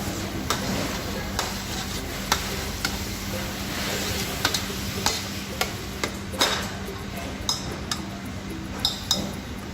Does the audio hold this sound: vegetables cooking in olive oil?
yes